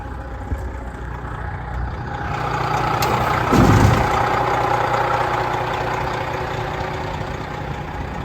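A Detroit 12.7 diesel engine in a 2014 Peterbilt 389 glider truck idles with a steady low rumble that swells briefly partway through, then settles into an even drone.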